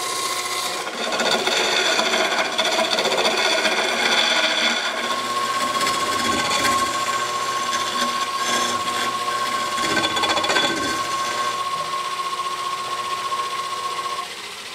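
Easy Wood Tools lathe chisels, including a negative rake cutter, cutting a spinning blank of resin cast with shredded CDs, giving a steady close scraping rasp with a constant tonal whine that stays level throughout.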